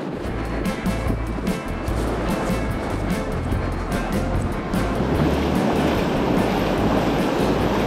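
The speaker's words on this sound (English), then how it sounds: "Now let's go wade out in the surf, see if we can get us a surf perch." Pacific Ocean surf breaks and rushes around someone wading out to fish for surf perch, a loud, continuous, close wash of churning water that swells slightly toward the end, with no talking.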